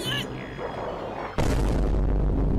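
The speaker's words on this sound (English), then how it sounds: "There's a cannon." An anime cannon fires with one sudden, loud booming blast partway through, following a quieter stretch of softer tones and movement.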